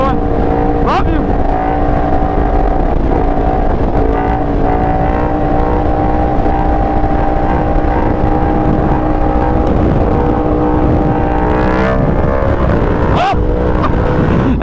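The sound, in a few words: motorcycle engine revving during a wheelie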